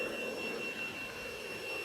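A Horizon Hobby E-flite F-18 Blue Angels RC jet with an 80mm electric ducted fan gives a steady, high-pitched whining roar, held constant with no pauses and no voices.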